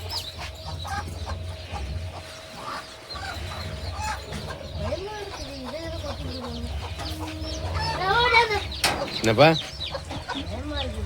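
Hens and a rooster clucking and squawking in a village coop, agitated calls rising to a louder burst near the end, with steady background hum and someone talking briefly.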